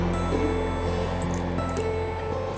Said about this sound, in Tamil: இதோட நம்ம பசும்பால் சேர்த்து மிக்ஸ் பண்ணிடணும்